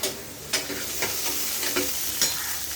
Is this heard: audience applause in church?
no